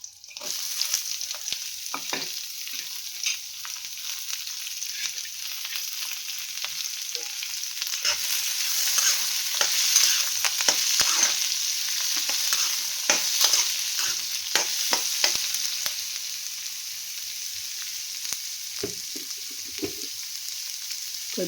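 Onion pieces sizzle in hot oil with curry leaves and tempering seeds, a steady bright frying hiss running throughout with scattered pops and spatters, close and fairly loud, no voices.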